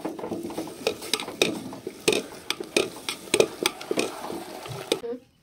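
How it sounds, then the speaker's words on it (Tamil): Millet porridge is stirred continuously in a pot with a ladle, giving a rapid series of scraping knocks and wet, thick sloshing, close and fairly loud, ending in sudden silence. "ஒரு சைடு அடி பிடிக்காம கரண்டி வச்சு கிண்டினே இருக்கணும்."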